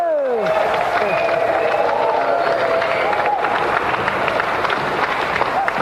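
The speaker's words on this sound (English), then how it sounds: "Another round of applause for our winner and a television Christmas prize" Studio audience applauding and cheering a prize-winning contestant on the Gamesmaster retro TV games show, a loud, dense, steady burst of clapping with some whooping and voices mixed in.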